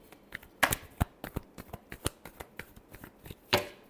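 Tarot cards being shuffled by hand, a run of crisp, close riffling and slapping bursts with one louder flurry at the start and another near the end.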